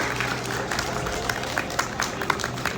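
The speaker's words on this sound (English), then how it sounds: "I'll go ahead and give him a big round of applause too." A crowd applauds steadily throughout, dense clapping with a few sharper claps standing out, fairly close and moderately loud, with some voices mixed in.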